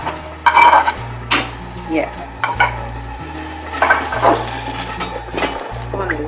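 Salted fish and onions fry in melted red palm oil, a steady close sizzle punctuated by repeated scraping stirs and clinks of a utensil against the pan, with a brief spoken word over the cooking.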